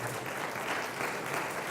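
Congregation applauding during a Spanish-language church service, a steady wash of many hands clapping at moderate volume with no clear individual claps, quieter than a nearby crowd.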